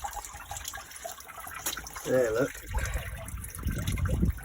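Water gushes and splashes while flushing out the cooling system of a 2008 Citroen C1, rising in uneven surges toward the end, with someone speaking briefly over it.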